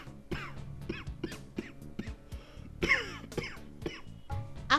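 A string of close, harsh coughs mixed with throat clearing comes in rapid, uneven bursts, one after another, in a Bangla drama scene.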